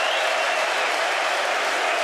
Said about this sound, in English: Huge cheer for Martin Keown